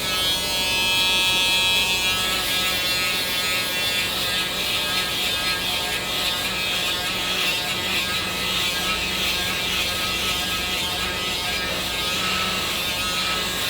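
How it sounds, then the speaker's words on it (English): A Braun Series 7 electric shaver buzzes steadily up close while clearing hair during a military skin fade haircut, a continuous whirring hum with slight fluctuations and no talking. "I'm going to take my Braun Series 7 shaver and clear out this bald"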